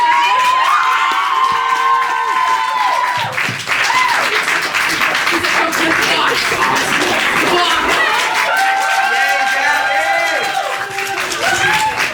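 An awards show audience claps and cheers loudly and steadily, with shouts and whoops rising over the dense applause throughout, and some voices mixed in.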